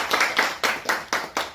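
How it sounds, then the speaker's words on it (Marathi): An audience at a Shiv Sena office-bearer appointment event claps together in a few loud, evenly spaced beats, close and clear with no voices over it. "टाळ्या वाजल्या सगळ्यांनी"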